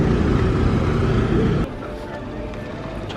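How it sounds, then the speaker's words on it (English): Rumbling vehicle engines idle and crawl in a traffic jam in Agonda, Goa, India, loud at first then suddenly quieter, with faint street noise and a brief voice. "Traffic jam."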